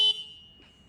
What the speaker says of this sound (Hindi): एक बार हॉर्न बजा के बता दो।